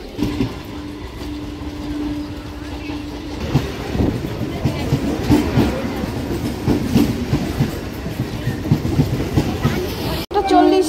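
A Bangaon local train pulls into Ranaghat station with a loud, continuous rumble and rhythmic clatter of wheels over rail joints, a brief squeal near the start, and some faint voices of people on the platform.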